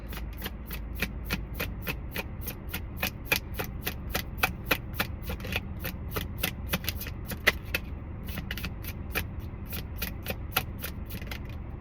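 Tarot cards are shuffled continuously in a close, steady run of rapid riffling flicks over about twelve seconds, loud and even with no voices.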